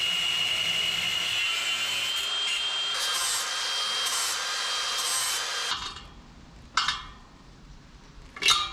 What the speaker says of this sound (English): Just grinded those down so they're pretty flush.